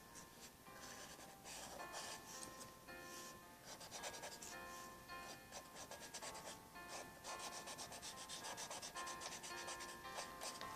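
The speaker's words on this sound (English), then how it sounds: "I bust out my blending stump here." A blending stump rubs and scrubs against paper while a Christmas tree is being drawn, steady close-up strokes of soft scratchy friction running continuously, with faint tonal music underneath and no talking.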